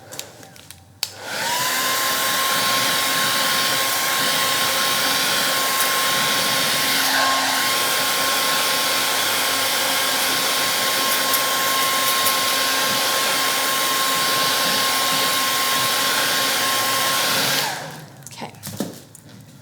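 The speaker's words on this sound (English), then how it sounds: "I'm gonna hit this with a blow dryer because now both sides of my stencil is wet" A handheld blow dryer drying a wet paint stencil runs as a loud, steady whine with a constant tone for about sixteen seconds, switched on and off with clicks, and one brief spoken word at the start.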